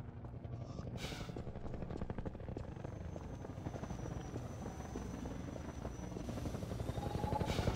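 A helicopter in Half-Life 2 VR drones steadily with a rhythmic rotor chop throughout, moderately distant and slowly growing louder, with no speech over it.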